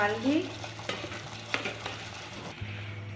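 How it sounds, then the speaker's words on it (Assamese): Gentle sizzling of food frying in a pan on low heat, with a few stirring scrapes and clinks over a low steady hum. "মই এয়া কম জুইত অকণমান ভাজি লৈছোঁ"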